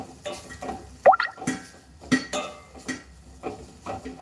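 Moong dal is stirred and roasted in a pan, with a handful of sharp scrapes and light metallic clinks of a utensil against the pan, close and fairly quiet, without talk.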